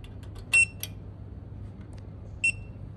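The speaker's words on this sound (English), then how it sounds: "Long press and hold on this button until you hear one beep sound." Two short, clear electronic beeps from a 360 photo booth remote controller sound at close range, separated by about two seconds, with faint clicks in between against quiet background hum.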